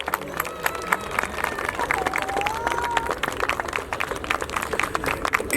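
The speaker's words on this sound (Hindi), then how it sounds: "जोरदार तालियां।" An audience breaks into loud applause at a crowded event, a dense, continuous wash of clapping with crowd noise and murmuring underneath.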